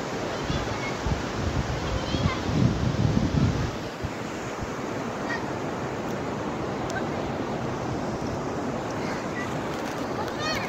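Sea waves washing onto a sandy beach, a broad steady roar of surf with wind buffeting the microphone, loudest early on, then settling into a constant wash.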